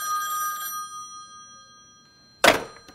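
A telephone bell rings briefly at the start, then quiet, followed by a sharp thunk like a handset being picked up.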